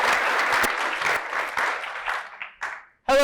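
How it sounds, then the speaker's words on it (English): An event audience claps energetically, dense applause that thins and breaks into scattered claps before fading out, followed by a brief sharp noise at the very end. "Let's see some energy. Energy applause."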